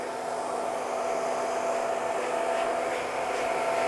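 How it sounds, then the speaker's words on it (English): A hair dryer blowing steadily on hair during a haircut from a curly perm to a side part skin fade, a constant close whooshing hum with a faint whine and slight airflow variations. "So I always dry it upright to start with and then just finish off by drying it over like so."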